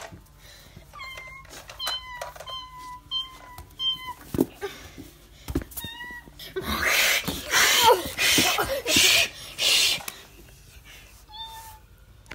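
A pet cat meows repeatedly in short rising calls, fairly close, while people talk and shout excitedly over it in a busy, noisy room.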